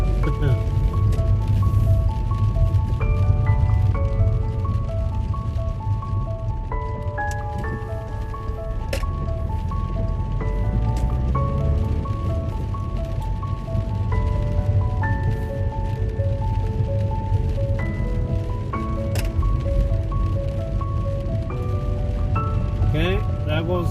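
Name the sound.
rain falling in Tromsø, Norway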